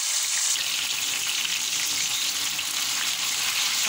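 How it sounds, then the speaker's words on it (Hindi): Steam-roasted chicken being lightly fried again in a pan, giving a steady, close hiss and sizzle with no talking. "मैं इसको थोड़ा सा दोबारा हल्का सा फ्राई करूँगी।"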